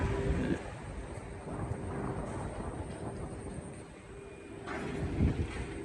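Wind blows across a shipyard where ships are under construction, a cool breeze after the heat. A steady, rumbling rush buffets the microphone, swelling slightly toward the end.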